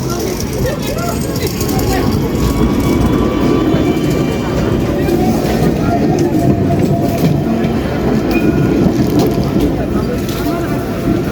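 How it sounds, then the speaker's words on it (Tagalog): A train rolls past nearby, a loud, continuous rumble and clatter of rail wheels that holds steady for the whole stretch, with voices mixed in. "nandiyan na nga yung train"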